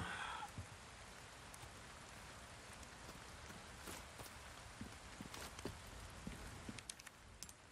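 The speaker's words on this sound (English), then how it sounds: "Oh, it's raining." Soft, steady rain in the Resident Evil 4 Remake video game, a faint continuous patter with scattered louder drops and light taps on surfaces.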